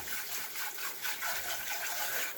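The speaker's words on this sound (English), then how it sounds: "What I just have to do is rinse the rice" A cup of white rice is rinsed in water, with a soft, steady swishing and trickling of liquid that runs close and fairly quiet throughout, with no talking.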